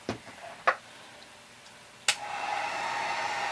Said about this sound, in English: And now I'm going to use my heat gun to heat it up.